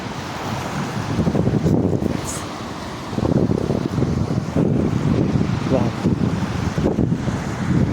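Ocean waves breaking on a shore, a continuous loud wash of surf with heavy wind buffeting the microphone, swelling slightly after a brief dip, close and unbroken throughout.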